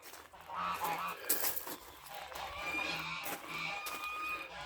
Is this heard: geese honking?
yes